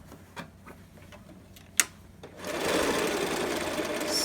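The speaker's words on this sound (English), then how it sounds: "Sew across the elastic, back stitch." A sewing machine starts up and stitches steadily across elastic on a fabric mask, preceded by a few light clicks and taps, running loud and close without speech.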